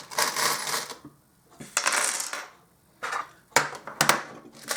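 Fortune charms cast onto a surface in a tarot-style reading clatter in several short bursts of small metallic jingling and clinking, each a second or so long with quiet gaps between.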